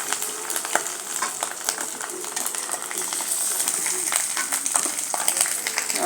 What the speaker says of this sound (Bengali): আও 5টা ডিম ভেজে নিলাম।